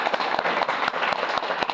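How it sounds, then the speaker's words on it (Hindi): Indoor seminar audience clapping for a guest named Aditya, a brief burst of dense, even applause from many hands, close and loud. "आदित्य जी के लिए एक बार और ताली बजाओ।"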